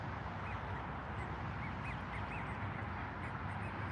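A flock of ducks resting in grass in winter, giving scattered faint quacks over a steady broadband outdoor noise, somewhat distant.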